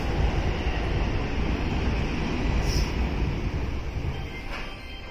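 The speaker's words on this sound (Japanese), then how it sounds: "また来た。 これはなんだ、直通特急か。" A through limited express train passes Daimotsu station in Japan, a loud, continuous close rumble of wheels on rails that fades slightly as it goes by.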